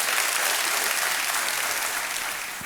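A studio audience on the Hindi quiz show Kaun Banega Crorepati claps steadily, a dense wash of applause that holds level before easing off slightly at the end.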